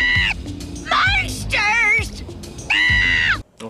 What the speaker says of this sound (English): The woman overreacts and runs away screaming